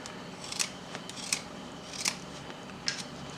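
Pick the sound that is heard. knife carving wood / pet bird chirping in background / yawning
knife carving wood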